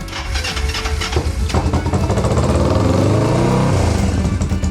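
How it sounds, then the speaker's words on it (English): A motorcycle engine with freshly repaired carburetors cranks and fires up, roaring loudly and close, then settles into a rough, uneven running note with throttle blips; no talking. "Fired right up. No way is it gonna idle on its own right away."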